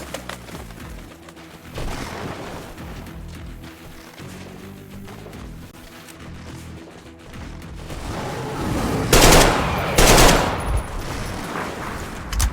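Gunfire in the video game Metro Exodus comes in bursts over a rumbling game soundscape. The shots are scattered at first, then a loud rapid volley rings out near the end.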